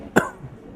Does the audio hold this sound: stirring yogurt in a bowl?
no